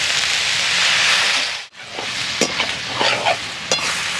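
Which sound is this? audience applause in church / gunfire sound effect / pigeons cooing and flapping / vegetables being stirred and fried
vegetables being stirred and fried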